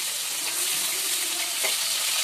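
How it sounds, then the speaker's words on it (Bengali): Fish frying in hot oil, a steady bright sizzle with scattered sharp pops and crackles, close and fairly loud, with no voices over it. "আওয়াজটা শুনি কি হারে ফাটছে, কি হারে ফাটছে"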